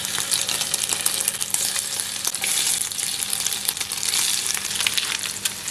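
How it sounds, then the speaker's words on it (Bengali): Paneer pieces fry in a little white oil in a pan, producing a loud, continuous crackling sizzle with scattered sharp pops and no talking. "একটু হালকা করে ভেজে নিচ্ছি দুপাশে"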